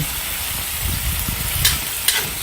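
String beans and okra sautéing in a hot pan, a loud steady sizzle with low rumbling and a couple of brief clinks near the end, close and without voices.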